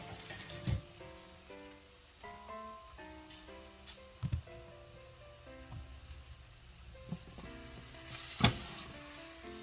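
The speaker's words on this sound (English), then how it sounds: "I'm going to grill onion." Onion grilling in a pan on a home stove, a soft, steady sizzle under scattered clinks and knocks of utensils, with faint musical tones in the background and no speech.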